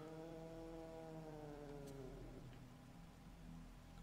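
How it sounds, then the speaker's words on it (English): Angry cat in Fatal Frame 3, a long, drawn-out yowling growl that wavers and slides down in pitch before trailing off, heard fairly close over a faint steady background hum, with no talk. "the cat is fucking pissed off at something"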